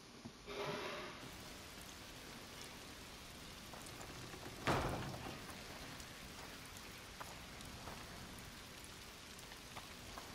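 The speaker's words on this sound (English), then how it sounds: "It's raining, which is bad." Steady rainfall in the video game A Plague Tale: Requiem patters on surfaces throughout, with a soft thud or distant rumble partway through; no voices.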